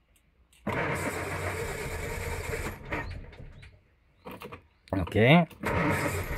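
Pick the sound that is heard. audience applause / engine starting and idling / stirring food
engine starting and idling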